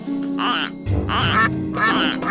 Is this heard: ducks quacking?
yes